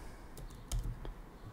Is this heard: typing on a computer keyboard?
yes